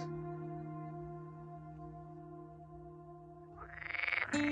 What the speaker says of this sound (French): Écoutez ces bruyants coassements au cœur des marais. Ce sont des mâles chanteurs de grenouilles vertes comestibles.